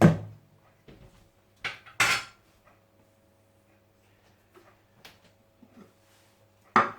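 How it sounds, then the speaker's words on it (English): A metal lid set back onto a cooking pot of rabbit plov: a few sharp clanks and rattles near the start and around two seconds, then quiet with small taps and a final clank at the end. "Let's pop the lid back on"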